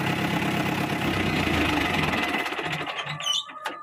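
An Ace 450 45 HP tractor engine drives a 7-foot Shaktiman rotavator, a loud, steady mechanical roar with a busy rattling churn that runs throughout and eases slightly in the last second.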